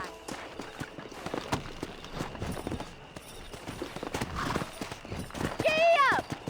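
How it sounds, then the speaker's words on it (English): Wild horses in a Red Dead Redemption game scene, hooves clip-clopping steadily under game speech and ambience, with a bright neigh rising near the end. "there's a pack of wild horses nearby"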